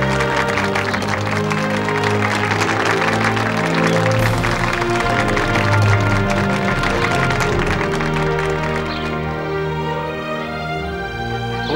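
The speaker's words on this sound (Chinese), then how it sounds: "我们大家就用最热烈的掌声，欢迎姚校长给大家讲话" A crowd gives warm, sustained applause to welcome Principal Yao to the podium at a military-political cadre school, a steady dense wash of clapping with music running underneath throughout.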